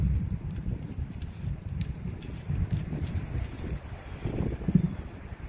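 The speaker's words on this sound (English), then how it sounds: "It's windy." Steady low, blustery wind buffeting the microphone, with gusts rising and falling throughout and no voices.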